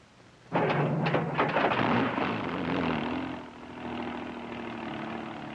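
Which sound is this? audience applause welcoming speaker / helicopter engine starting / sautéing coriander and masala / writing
helicopter engine starting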